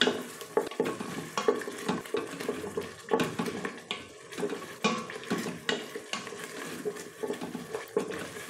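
Spices sauté in a Geek Robocook pot for a chicken and chickpea curry, with soft, irregular scraping and stirring, light sizzling and occasional clinks of a utensil against the pot, all fairly faint.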